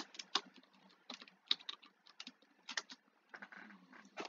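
Rapid clicking of a computer keyboard as a chat message is typed during a Roblox game, with irregular bursts of keystrokes and brief pauses, close and fairly quiet, with no voices.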